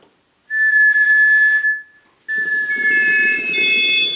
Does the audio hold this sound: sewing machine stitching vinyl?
no